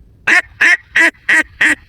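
Five sharp, evenly spaced quacks from a duck call mimic an alarmed duck, loud and close with brief pauses between them.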